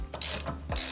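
A ratchet tightens brake caliper bolts on a Ford Focus ST, giving three quick, close rasping clicking bursts in under a second, with no talk.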